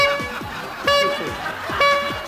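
A gag car horn honks in a Brazilian TV comedy driving scene: two short, bright honks about a second apart, mixed with chirpy sliding tones and background bustle.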